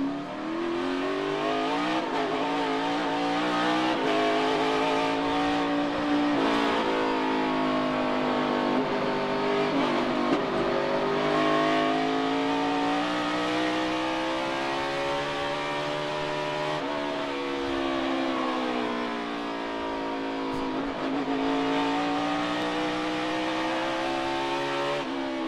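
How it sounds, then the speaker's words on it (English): NASCAR Cup Series race car at the Sonoma road course, throttle backed off and coasting into a corner, engine note rising and falling in long smooth sweeps, loud and close with no talk. "he backs off the throttle and lets the car coast into the corner"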